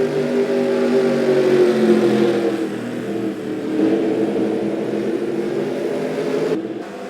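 NASCAR stock cars race at Darlington, a loud, continuous engine roar that swells and fades as the pack runs on, with a brief drop near the end.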